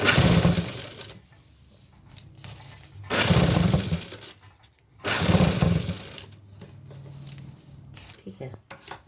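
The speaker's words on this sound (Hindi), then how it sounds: "इसके बाद फिर सिलाई चालू करेंगे।" A sewing machine stitches a blouse in bursts of a few seconds each, loud and close, with quieter pauses between runs and a voice talking during the gaps.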